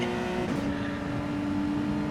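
A race car engine in Gran Turismo 7 holds a loud, sustained high drone, with its pitch shifting briefly as the throttle changes.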